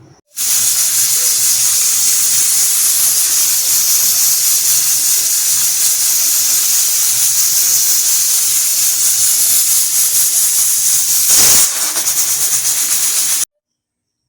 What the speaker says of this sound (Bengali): ওর মধ্যে দিয়ে একটু একটা সিটি দিয়ে ফুটিয়ে নেব, সেদ্ধ করে নেব।